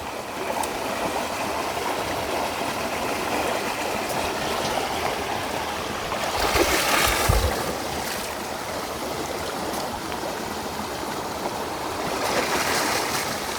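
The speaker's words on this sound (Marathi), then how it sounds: "पाण्याचा आवाज मस्त येतो खेळण्याचा." Water flows steadily in a stream in the Konkan countryside, a continuous close rushing and trickling that swells louder a couple of times, with no voices.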